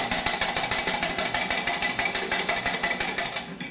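Beaten egg whites whisked briskly in a bowl, a fast, even metallic rattle of tines repeating about eight times a second, loud and close, with no voices.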